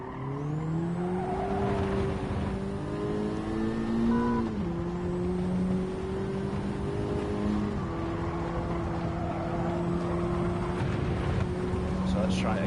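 Race car in Gran Turismo 7 at Road Atlanta, engine droning loudly with rising pitch through the gears and downshifts, tires squealing faintly as a person talks over it.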